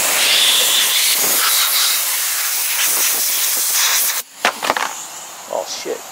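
Compressed air hisses steadily while blowing down a Briggs engine part being prepped for paint, a loud continuous rush that cuts off near the end, followed by a few short bursts.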